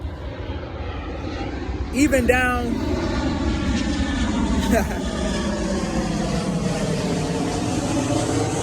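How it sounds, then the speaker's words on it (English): An airplane flies overhead as a steady engine drone that swells and fades through the clip, while someone talks over it. "14 planes just flew over me back to back."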